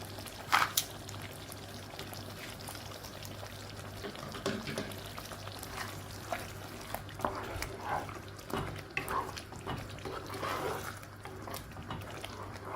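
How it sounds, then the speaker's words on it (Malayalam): Lemon and dates pickle simmering in a pan as it is stirred, giving a soft, steady bubbling with faint liquid pops and occasional scrapes, low and continuous with no talking. "നന്നായി ഇളക്കിയിട്ട് ഒരു രണ്ട് മിനിറ്റും കൂടെ ഒന്ന് തിളപ്പിച്ചെടുക്കാം"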